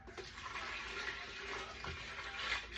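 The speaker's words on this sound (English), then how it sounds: "we're gonna add 2 cups of water on the top" Lukewarm water poured onto yeast in a bowl while making French bread, a steady close splashing pour that runs without pause and swells slightly toward the end.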